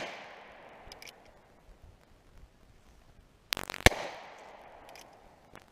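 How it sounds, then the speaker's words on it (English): A .22 Magnum Heritage Rough Rider revolver fires a couple of sharp, loud cracks close together, with a faint echo trailing off after each shot and quiet outdoor ambience before and after. "I'm going to shoot 6 Magnum rounds now. 22 Magnum."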